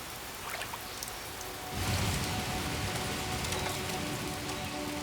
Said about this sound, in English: The jungle still gets heavy downpours.